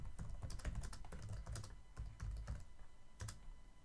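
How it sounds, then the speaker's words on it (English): Fast keyboard typing taps away at close range in quick irregular bursts, with short pauses between clusters of keystrokes. "I didn't finish typing"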